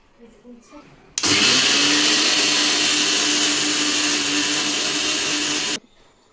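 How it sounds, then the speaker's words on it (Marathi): A mixer grinder whirs loudly for about four and a half seconds, grinding sugar with cardamom into powder, starting and stopping abruptly, with brief talk before it starts. "हे मिक्सरमध्ये वाटून घेऊ."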